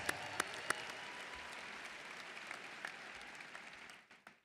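An audience at a Texas Tech ring ceremony claps for the Masked Rider, a broad, distant-sounding round of applause with a few sharper claps that fades out near the end.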